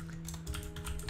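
Code is being typed on a computer keyboard in a quick, close burst of steady keystrokes with no voices.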